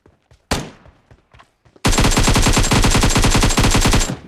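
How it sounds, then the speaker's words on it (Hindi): Gunfire in the battle royale game BGMI: scattered distant shots and a single loud crack, then a sustained rapid automatic burst that rattles on for over two seconds, close and loud, with no talking. "मुझे दूसरी साइड से फायरिंग की आवाज़ आ रही होती है"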